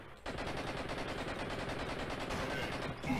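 Sustained rapid gunfire from the Blood and Bacon video game, dense machine-gun bursts that run loud and unbroken from just after the start to the end, with no talking.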